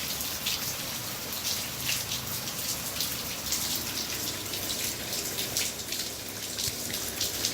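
Steady rain falls outdoors on a rainy day, a dense, even patter of drops close by with no talk.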